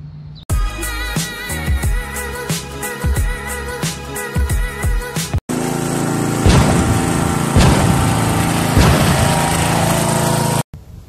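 A Craftsman 22-inch self-propelled lawn mower with a Briggs & Stratton Quantum engine runs loud and steady nearby, with a brief cut and a shift in tone partway through, then stops abruptly near the end.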